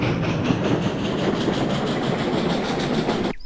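A breakdown train runs along the rails toward a viaduct, its wheels clicking in a steady, rhythmic clatter at a close, even level until it stops abruptly.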